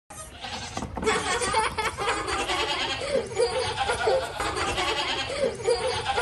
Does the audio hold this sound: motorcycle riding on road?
no